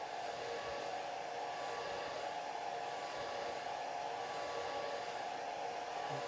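A hair dryer blows steadily on a watercolor painting of a moonlit sky, a constant close whooshing roar that holds unchanged throughout with no voices.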